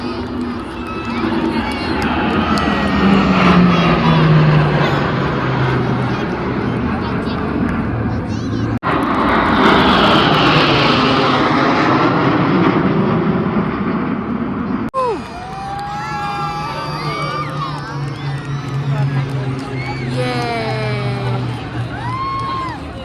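An aircraft formation flies past at the Republic Day parade on Kartavya Path, a loud broad roar that swells and fades amid crowd noise and cheering, under continuous public-address commentary.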